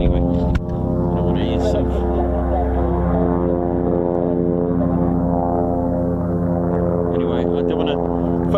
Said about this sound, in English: Sounds like F-35s are quite close by. That's the that's F-35s from Lakenheath.